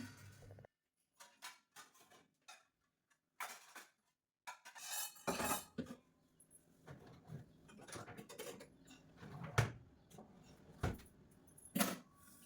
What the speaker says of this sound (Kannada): ಮೊದಲು ಪಾತ್ರೆಗಳನ್ನು ಜೋಡಿಸ್ಕೊಳ್ತಾ ಇದ್ವಿ